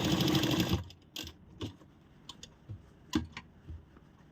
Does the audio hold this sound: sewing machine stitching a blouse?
yes